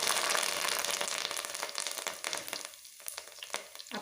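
Whole dried red chillies and curry leaves crackling in hot oil for coriander rice, a dense close sizzle that thins out toward the end.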